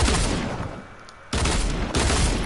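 Bursts of automatic gunfire in a video game, a sustained volley, a brief lull, then two more loud bursts, with no talking.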